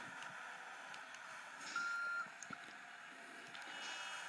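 A fire truck's reversing beeper in GTA Liberty City Stories emits a steady, faint repeating tone over a low engine and ambient hum, with no talk.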